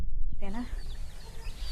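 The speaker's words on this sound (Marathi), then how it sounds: "माझ्या मागे ही बघा कोंबडी, गावठी कोंबडी." A country hen kept at a village home gives soft, faint clucks in the background while someone speaks briefly nearby.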